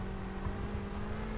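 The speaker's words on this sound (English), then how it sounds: "Dude, I can really do some burnouts with this thing." A car does burnouts in the My Summer Car driving game, a steady low engine drone with a sustained tone, moderately loud and continuous through the short stretch.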